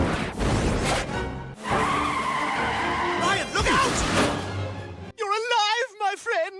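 A car in a Family Guy cartoon skids just before an accident, a loud sustained tire squeal over engine roar and score, ending in a sudden cut to a brief warbling tone.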